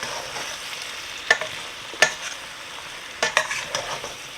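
A spoon stirs corn and beans in a pot of cucuzza chowder, giving several sharp scraping clinks against the pot over a soft, steady sizzle, with no voices.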